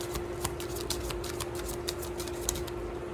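Affirmation cards being shuffled by hand, a steady run of soft papery riffles and flicks with a few sharper snaps, close up over a faint constant hum.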